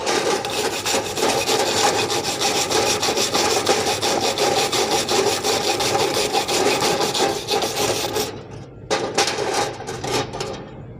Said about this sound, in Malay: pelajar harus menggunakan berus dawai untuk membersihkan kawasan